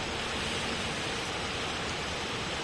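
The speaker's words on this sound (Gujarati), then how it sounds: "અવાજથી તમે શાયદ ગેસ કરી શકો ભાઈ વરસાદ પડેરો" Rain falls outside at night during a lightning storm, a steady, uniform wash of hissing noise with no breaks and no talking.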